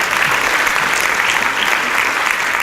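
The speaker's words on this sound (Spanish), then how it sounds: "fuertes palmas para la doctora Isabel Tapia" Audience applause welcomes Dr. Isabel Tapia Páez to a lecture on the genetics of dyslexia: a dense, steady burst of many hands clapping together, loud and continuous, with no voices over it.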